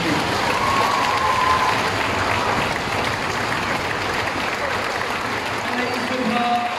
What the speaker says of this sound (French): Un tonnerre d'applaudissements pour l'association Acte 3